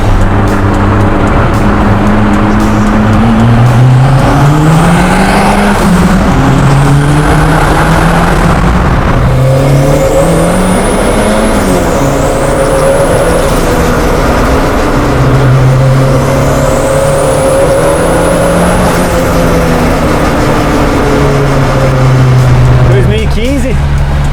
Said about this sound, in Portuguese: turbina assobiando